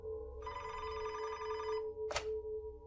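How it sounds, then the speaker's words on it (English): An old-style telephone bell ringing as an added sound effect, a bright metallic ring lasting over a second, then a short second burst, fairly loud and alone over a low background hum. "phone rang at his desk"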